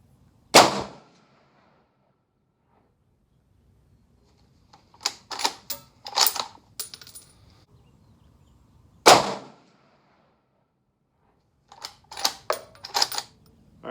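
A Ruger RPR rifle firing Hornady American Whitetail 129 grain rounds gives two sharp, loud, widely spaced shots, each followed later by a cluster of quick metallic clicks and clacks as the bolt is worked, with quiet between.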